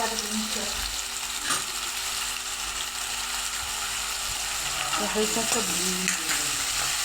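Onion frying in a pan until lightly browned, with garlic and ginger already browned in it, a steady close sizzle with occasional stirring scrapes, no talking.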